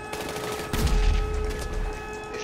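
Gunfire during a Grand Theft Auto V heist, a loud burst of rapid shots kicking in partway through over a steady game drone, close and sustained.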